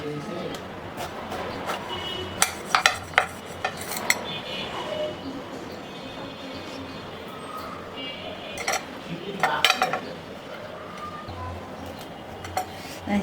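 Eggplant (brinjal) being chopped into pieces with a knife in a home kitchen, giving a string of sharp clicks and taps on a board, clustered in bursts over steady background noise.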